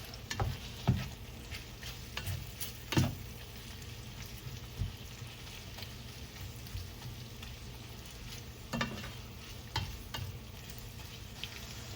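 Steak and shrimp fajitas sizzle softly in a hotel kitchen pan under a constant frying crackle, with intermittent scraping and clacking as they are stirred.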